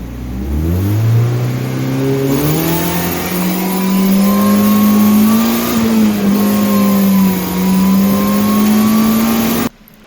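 Supercharged 1.6-litre Mazda Miata engine, fitted with an M45 blower, revving hard and pulling through a rising acceleration, loud and close with a steady climbing drone that cuts off abruptly at the end, no talking.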